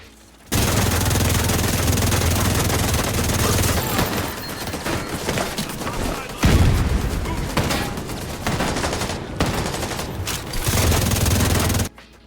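St. Elmo's Engine exotic assault rifle in The Division 2 fires at a very high rate of about 1414 rounds per minute, loud sustained automatic bursts broken by brief pauses, with shots and impacts echoing.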